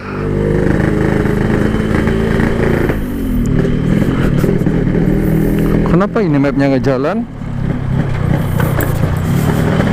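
A motorcycle fitted with a PK1 aftermarket exhaust being ridden on a road, its engine droning loud and continuous with a brief rising rev midway, while a rider talks over it throughout.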